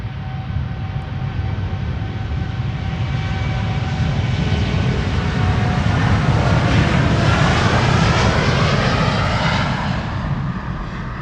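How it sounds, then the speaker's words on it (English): A five-year-old American Airlines Boeing 787 Dreamliner departs Amsterdam Schiphol, its jet engines roaring loud and steady close by, a broad sustained rumble that swells and slowly recedes, with no voices. "This is American Airlines flight 203 to Philadelphia, Pennsylvania. 7878 Dreamliner."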